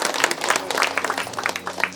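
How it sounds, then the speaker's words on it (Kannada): Audience applause at a village anniversary function welcoming a guest, a short burst of steady clapping from a gathered crowd, moderately loud, with no talk over it. "ಎಲ್ಲರೂ ಚಪ್ಪಾಳೆ ಮುಖಾಂತರ ಅವರಿಗೆ ಸ್ವಾಗತ ಕೋರೋಣ."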